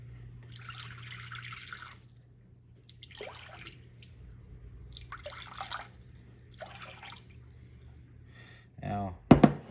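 Water for cold-process soap poured into a container on a scale, several short splashing pours separated by quiet gaps over a faint hum, ending with a louder close clatter.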